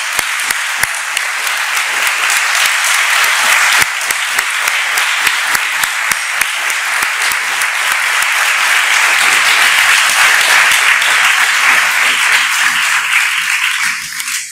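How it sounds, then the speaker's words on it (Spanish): Sustained, loud applause fills a church during a Mass at Nuestra Señora de Loreto, many hands clapping evenly and densely for about fourteen seconds before trailing off at the end. "Un fuerte aplauso para ellos."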